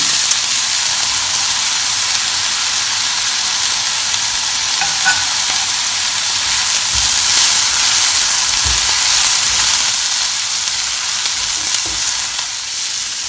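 Onions sautéing in oil with a pinch of salt, a loud continuous sizzle and hiss with occasional stirring scrapes against the pan, no voices.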